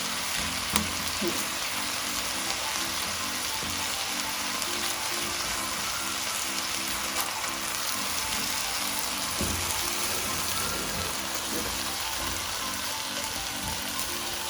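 Egg frying in a pan for chicken fried rice makes a steady, continuous sizzle and crackle that holds at an even level throughout, with no talk over it.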